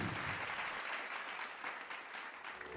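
An audience at a motivational talk claps in a steady burst of applause that gradually thins and softens, heard from within the hall.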